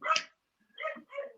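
A pet dog barks close by, three short barks: one sharp bark, a pause, then two quicker barks in a row, with no talk over them.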